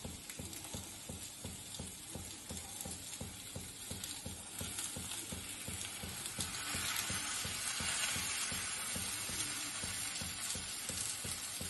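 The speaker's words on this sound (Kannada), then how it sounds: "ಸ್ವಲ್ಪ ಮೀಡಿಯಂ ಉರಿನಲ್ಲಿ ಮಾಡಬೇಕು ರೊಟ್ಟಿ." Vegetable akki rotti cooking on a pan over a medium flame, giving a continuous soft crackling sizzle that grows slightly louder and denser partway through, close by with no voices.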